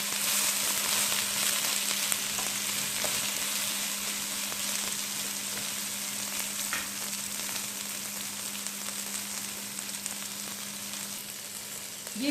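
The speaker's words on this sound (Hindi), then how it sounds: "मीडियम आंच पे इसको आपने फ्राई करना है" Okra (bhindi) frying in a pan over medium heat for masala bhindi gives a steady, dense sizzle that runs unbroken and fairly loud from start to finish, with a faint low hum beneath and no talking.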